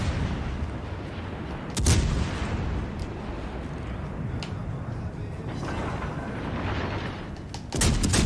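Naval armor-piercing shell fire in World of Warships Legends, heavy booming salvos with sharp cracks, one big blast early and another cluster near the end over a rumbling battle din.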